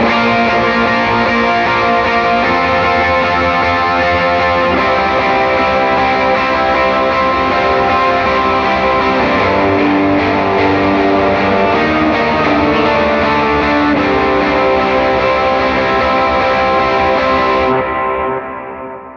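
A heavily overdriven electric guitar strums sustained chords drenched in delay and reverb, loud and continuous, ending as the last chord rings out and cuts off.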